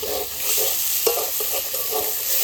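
Spice paste with Kashmiri chilli powder fries in a pan with a steady loud sizzle, and a spoon stirs and scrapes through it in short repeated strokes.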